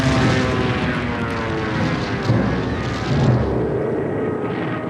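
Military aircraft flying over Korean War front lines on bombing runs: a loud, steady engine roar filling the whole clip, with slight swells as planes pass close.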